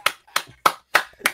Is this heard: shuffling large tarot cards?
no